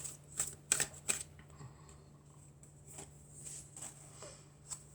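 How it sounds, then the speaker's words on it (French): Cards are shuffled and drawn for a general guidance reading. A few sharp, close flicks come early, then softer scattered card sounds follow over a low background hum. "Alors, on va prendre quelques cartes."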